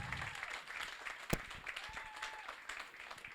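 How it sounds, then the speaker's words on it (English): Wedding guests applaud after the parents are introduced for their speeches: a soft, steady patter of many hands clapping at a distance, with faint voices underneath. "So give him a round of applause."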